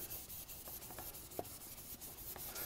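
Aluminum being sanded by hand with 1200 grit sandpaper, a soft continuous rubbing hiss with faint rhythmic strokes, close and quiet.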